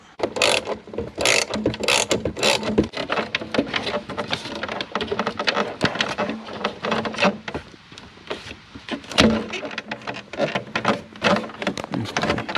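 A ratchet rapidly clicks as it backs out a screw holding the glove compartment in a C5 Corvette dash, a dense, continuous close-up ratcheting that runs throughout with no talking.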